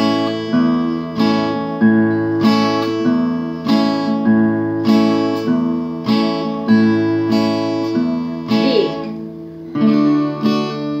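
A guitar plays a low E bass note on its sixth string, plucked repeatedly in a slow, steady rhythm, each note ringing out clearly with no talking.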